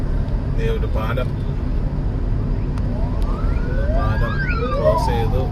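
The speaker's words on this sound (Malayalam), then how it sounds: "സൈറനൊക്കെ ഇട്ടുകൊണ്ട് പോയി. അതൊരു എമർജൻസി ആണെന്ന് തോന്നുന്നു." An ambulance siren sweeps past on a highway in Kerala, its rising and falling wail growing louder toward the end over a constant roar of road and car noise.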